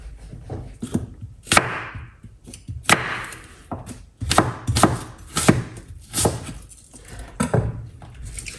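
A knife chops through a medium-sized green apple on a cutting board, making about a dozen sharp, irregular thuds and crunches close up, with no speech.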